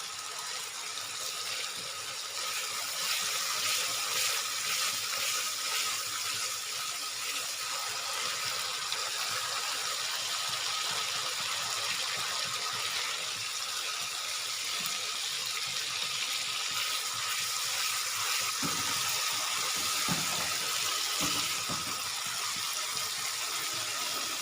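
Water, about a cup, poured into frying masala for chana dal with bell peppers in a home kitchen, giving a steady broadband hiss and sizzle that runs through the whole stretch, with a few faint clinks near the end.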